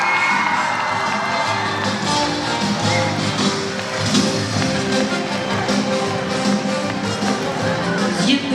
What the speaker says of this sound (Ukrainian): Артем Шошин, ваші оплески.